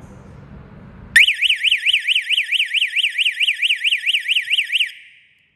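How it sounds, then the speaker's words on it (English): An access controller's door alarm, triggered after a card swipe opens the door, sounds as a loud, rapidly warbling electronic tone, switching on abruptly after faint background noise and holding steady for nearly four seconds before stopping. "the alarm must go on."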